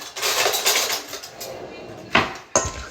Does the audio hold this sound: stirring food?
yes